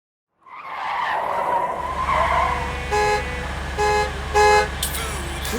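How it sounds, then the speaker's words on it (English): A car horn in the Rust video game honks in three or four short, loud blasts after a skid and engine rumble, the vehicle idling low underneath. "can you stop honking the horn?"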